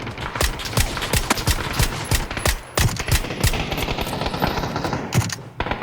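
Rapid bursts of automatic gunfire in the video game PUBG, dense volleys of shots crackling close and loud almost without pause across the whole stretch, with no talk over them.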